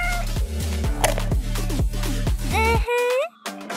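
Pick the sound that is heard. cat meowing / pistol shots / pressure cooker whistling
cat meowing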